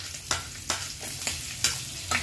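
Onions and garlic sautéing with pork in a hot pan for pancit guisado, a close, steady sizzle broken by regular scraping strokes of a stirring spatula.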